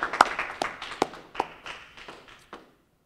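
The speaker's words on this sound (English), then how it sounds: "So a round of applause for our consumers." A small audience at a community event in a Yonkers riverfront library gives sparse, scattered applause, with a handful of sharp claps that thin out and fade to silence.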